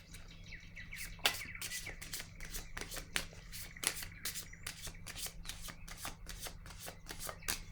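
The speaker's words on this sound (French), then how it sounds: "Je vais déposer une carte sur celle-ci." Playing cards are handled during a card game, giving a rapid, steady run of crisp papery flicks and snaps close by over a low constant hum, with no speech.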